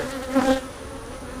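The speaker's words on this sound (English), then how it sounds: "it's full of bees" Bees buzz inside a beehive super in a steady, close droning hum, swelling briefly near the start while someone speaks over it.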